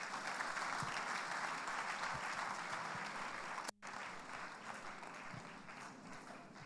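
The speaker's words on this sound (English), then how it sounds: "Another round of applause" Applause from the audience at an international planners' conference and annual general meeting, a steady, dense wash of many clapping hands heard at a distance, briefly cut off midway before continuing.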